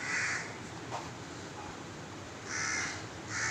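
Crows cawing nearby, harassing a monkey trying to sleep: two harsh caw bursts at the start and two more near the end, fairly clear over a quiet outdoor background; no talking.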